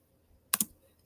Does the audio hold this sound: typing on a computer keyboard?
yes